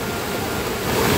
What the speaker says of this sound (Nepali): पानी परिरहेको छ, खोला अझै बढ्ने क्रममा छ